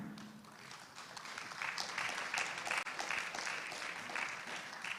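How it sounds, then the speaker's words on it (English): A seminar audience on financing transition in ASEAN applauds a speaker being welcomed to the stage, a steady wash of many hands clapping at moderate distance that swells briefly midway and continues to the end. "please give a round of applause for Mr."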